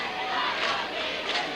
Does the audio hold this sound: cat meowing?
no